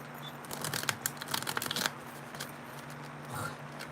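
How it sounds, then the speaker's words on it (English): A deck of cards being shuffled at close range, giving a burst of quick riffling clatter over about a second and a half, then quieter soft handling with a steady low hum underneath. "I'm just gonna get a shuffle real quick"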